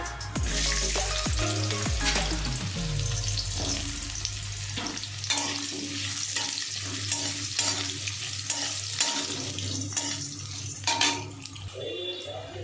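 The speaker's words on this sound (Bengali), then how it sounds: "এবার কেটে রাখা আলুগুলো প্রথমে ভেজে নিই" Cut potatoes fry in a pan of hot oil with dried red chilli tempering, a steady close sizzle with occasional stirring scrapes and soft clatter, no voices.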